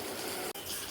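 Water pours steadily over a person's head as henna paste is rinsed off, a continuous close splashing flow with one brief break midway.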